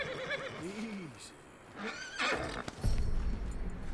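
Horse whinnying in Red Dead Redemption 2, a rising-and-falling neigh early on followed by snorts and hoof clops, with someone speaking softly to calm the animal.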